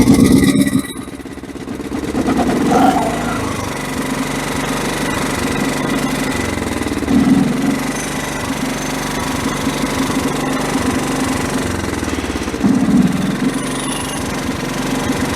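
The Kohler 12.5 HP engine on a worn John Deere STX38 lawn tractor runs loudly and close up, holding a steady, rough mechanical drone with brief surges, and no one speaks.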